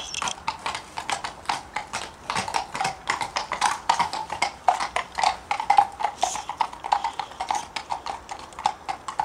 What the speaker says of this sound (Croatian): I evo su konji. Mislim, ovo su policajci na konjima.